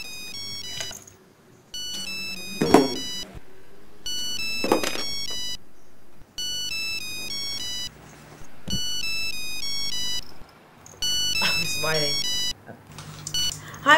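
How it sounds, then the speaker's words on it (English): A mobile phone plays a repeated electronic ringtone melody in regular bursts with short gaps between, while thumps and handling noises break in several times. "Is that your phone?"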